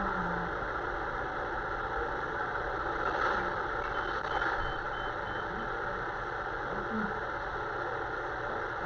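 Turning-alert warning beeps from a bus's pedestrian detection system at a Manhattan intersection, faint and intermittent over a steady idling engine and traffic hum.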